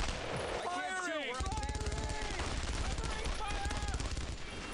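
Rapid, sustained MG42 machine-gun fire in the World War II shooter Brothers in Arms: Road to Hill 30, a continuous stream of loud bursts with shouted voices over the top.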